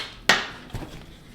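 A glass side panel is lifted off a PC case: a sharp knock, then a softer second clunk a half-second later, close and alone.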